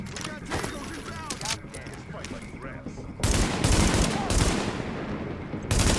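Gunfire in the video game Tom Clancy's The Division: loud rapid bursts of automatic fire and scattered shots, growing heavier midway, mixed with game sounds while a person talks over it.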